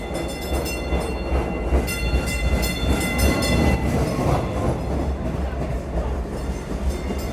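A DART tram in Dallas rolling loudly nearby, steady rumble with rhythmic rail clicks and a bright tonal whistle or horn layered on top, continuous for the whole stretch.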